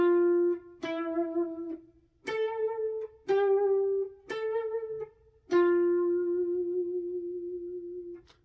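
Electric guitar picks an outro riff alone, six ringing notes at a steady pace, each struck cleanly and left to sustain, the last held longest.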